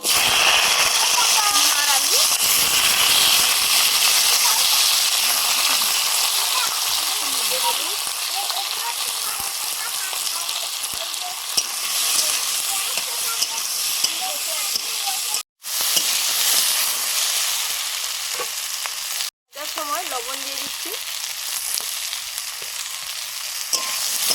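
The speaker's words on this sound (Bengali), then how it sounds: "এবারে সবজিগুলো ভেজে নিচ্ছি ফোড়নে" Vegetables sizzle and fry loudly in spice tempering with black cumin, a continuous crackling hiss with occasional stirring scrapes and two brief cutoffs; a voice talks over it at times.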